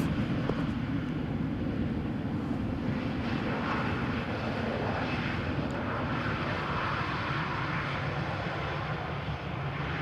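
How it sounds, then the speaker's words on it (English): El Al airliner rolling out after landing from Tel Aviv at Amsterdam Schiphol on a showery morning, a steady distant jet engine roar with broadband rumble, moderately faint, no talk. "El Al just landed, arriving from Tel Aviv."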